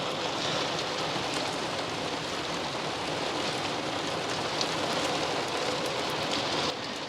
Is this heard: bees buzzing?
no